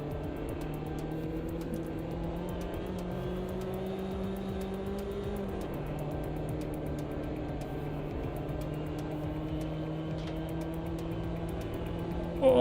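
Mini race cars lapping a track: a steady, continuous engine drone with shifting pitch as the cars accelerate and brake, loud and unbroken throughout.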